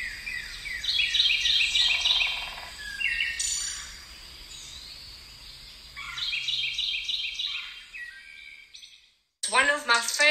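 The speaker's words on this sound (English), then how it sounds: "I love to listen to birds singing." Birds sing and chirp in bright, fluttering phrases, with several overlapping calls, moderately close, then a short silence before a burst of quick chirps.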